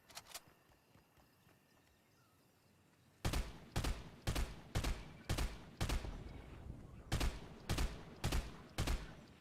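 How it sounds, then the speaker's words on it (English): Rapid bursts of gunfire from a player in the video game Fortnite, starting after a few quiet seconds and repeating in sharp, evenly spaced volleys, loud and close with no talk over them. "What is that guy shooting at?"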